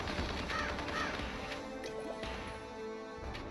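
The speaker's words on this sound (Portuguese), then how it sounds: "Eu gosto do corvo, faz o corvo." Crow caws in the Kingdom Rush pirate kings campaign, a couple of harsh repeated calls early on over a dense, busy game soundscape of music and effects.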